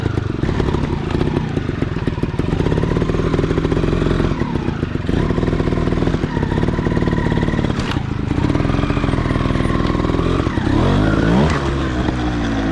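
A 2017 TRS One RR 300cc trials motorcycle engine runs close and loud, its uneven rasping putter rising and falling with throttle blips and revs as the bike rides over rough ground.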